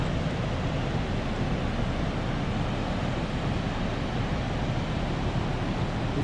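Ocean surf breaking on a Washington coast beach at high tide, a dense continuous roar of waves close by, loud and steady with no voices.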